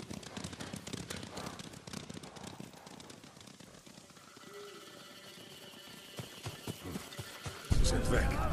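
Mongol riders pass by on horseback in Ghost of Tsushima, with irregular hoofbeats and clattering moving past under game voices and ambient sound.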